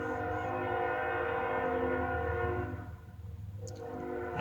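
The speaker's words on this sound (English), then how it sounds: "train going by there" A train rolls past in Hopkinsville, Kentucky, its horn sounding as a loud, sustained chord over the rumble of the cars, then easing off as the wheels clatter on.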